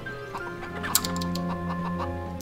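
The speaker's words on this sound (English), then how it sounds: "You've got to scare chickens into eating food." Chickens clucking in the video game MediEvil, a steady run of close, repeated clucks and short squawks over a level's droning background music, with no talk.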